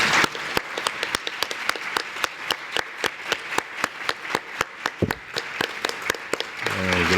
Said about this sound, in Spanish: Les damos un aplauso.